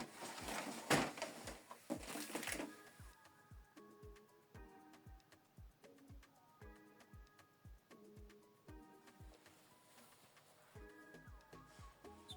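An HP Envy 6120e printer powers up after being switched on, giving a faint series of regular mechanical clicks and ticks with short whirring motor runs between them, quiet and close.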